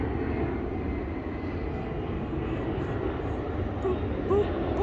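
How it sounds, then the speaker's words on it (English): A fixed-wing airplane drones overhead through a wooded worksite, a steady, moderately loud engine hum that holds throughout. "airplane's coming"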